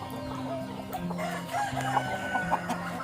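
Chickens on a village farm in the morning, with roosters crowing and hens clucking at a moderate distance, layered calls overlapping steadily over a low constant hum.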